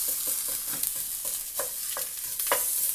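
Julienned onion sautéing in a pan, a constant hiss of frying with quick rhythmic spoon scrapes and taps as it is stirred.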